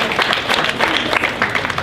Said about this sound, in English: Give me a nice round of applause.